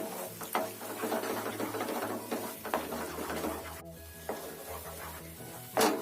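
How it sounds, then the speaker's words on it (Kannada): Papaya halwa being stirred in a pan over a low stove flame, a soft continuous scraping and rubbing with faint sizzling, with occasional light clinks near the end. "ಸ್ಟವ್ ಸಿಮ್ಮಲ್ಲಿ ಇಟ್ಕೊಂಡು ಚೆನ್ನಾಗಿ ಮಿಕ್ಸ್ ಮಾಡ್ಕೋಬೇಕು"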